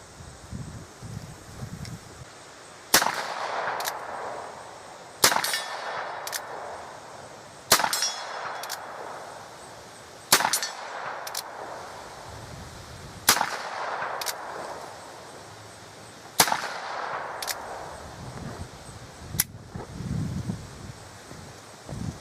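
Sharp, loud gunshots from a Colt Single Action Army revolver firing 200-grain .45 Colt cowboy loads, about seven evenly spaced reports roughly every two to three seconds, each with a short ringing tail outdoors.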